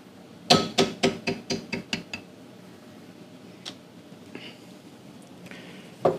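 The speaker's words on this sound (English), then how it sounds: "Maybe kind of bevel around that just a little bit." Mallet strikes beveling around a tooled leather flower: a quick run of about eight sharp taps in steady rhythm, loud and close, then quieter scattered light taps and a final knock.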